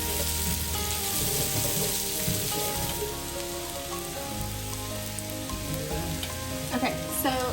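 Onions frying in a pan for a creamy tomato artichoke chicken dish, softened and starting to caramelize, give a steady, close sizzle and crackle that runs unbroken throughout with no talking.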